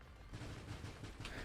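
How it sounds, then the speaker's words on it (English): Small mines blowing up in the space shooter Nova Drift, a quick scatter of soft, muffled pops and crackles repeating irregularly over a low continuous rumble, fairly faint and with no talking. "There are also all these like little explosions that are happening from time to time on this guy"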